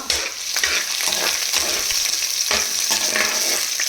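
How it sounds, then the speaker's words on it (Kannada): Ginger and garlic fry in a hot pan with a steady, bright sizzle, broken by the occasional scrape of a spoon stirring, close and continuous with no voices. "ಸೊ ಜಿಂಜರ್ ಗಾರ್ಲಿಕ್ಕು ಫ್ರೈ ಆಗಲಿ."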